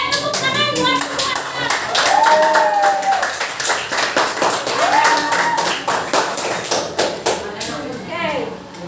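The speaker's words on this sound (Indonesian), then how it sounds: "tepuk tangan buat semua" A class of students clapping their hands in a classroom, brisk and uneven rounds of claps that rise and fall, with children's voices and squeals mixed through the applause.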